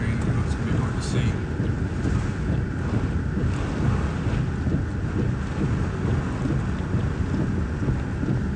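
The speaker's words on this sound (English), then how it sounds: "we're starting to get wrapped up in rain" Rain and strong wind roar during a tornado storm in Madison, Indiana, a constant dense wash of noise with wind buffeting the microphone close up throughout.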